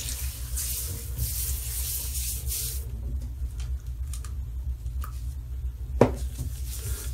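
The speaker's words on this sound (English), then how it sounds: "Hot water." Hot water runs from a tap, a hissing stream that flows steadily for a few seconds and then cuts off, followed by quiet handling noises and a sharp knock near the end.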